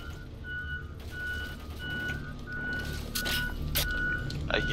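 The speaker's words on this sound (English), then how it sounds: "there's a tractor right next to me, and it's doing construction, and it's backing up." A tractor doing construction work reverses, its regular high-pitched backup beeps repeating at an even pace over a low engine rumble, with some clattering and hissing toward the end.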